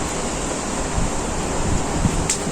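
Strong, steady wind roars on a cold, cloud-darkened day in Israel, a constant broadband rush with faint gusty rumbles underneath and no voices.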